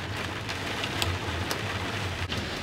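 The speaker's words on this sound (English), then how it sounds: "Can you hear the little pecks on the window?" Hail and rain patter steadily on a car window during a storm by a cornfield, a dense continuous hiss with small sharp ticks of stones striking the glass, heard from inside the vehicle.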